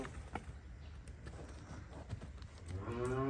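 Cattle on a farm moo in a low, drawn-out call near the end, fairly close, over faint shuffling and hoof sounds in a quiet yard.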